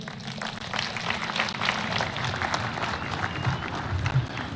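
Applause at a Mashujaa Day celebration in Kitui for the President of Senegal, a crowd clapping steadily and densely from start to finish, with no one speaking over it.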